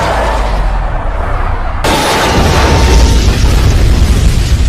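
A train crash explosion in an action film roars as a loud, sustained rumbling blast, then jumps suddenly into an even harsher, fuller roar partway through.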